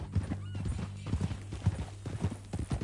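Horse hooves clip-clop at a steady walking pace in Red Dead Redemption 2, loud and close, with rhythmic thuds over a low constant hum.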